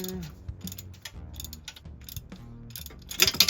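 Ratchet wrench clicking on exhaust nuts and studs while a catalytic converter is replaced on a 2012 Ford Focus SE, with bursts of metallic ratcheting and clanks against low mechanical rumble, growing louder and busier near the end.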